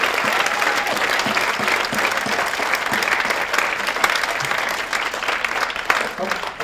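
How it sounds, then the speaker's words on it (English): A crowd at a Spring Spectacular event applauds steadily and densely for a thanked volunteer, a continuous wash of many hands clapping at even loudness for the whole stretch. "So I'd just like to give a round of applause for her."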